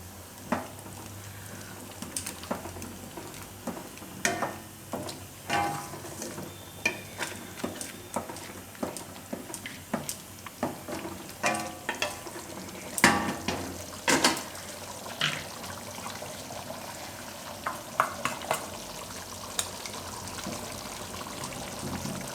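Chickpea curry with crushed chickpeas being stirred in a pan, a steady run of scraping, knocking spoon strokes and soft wet sloshing, close and moderately loud, with no talking.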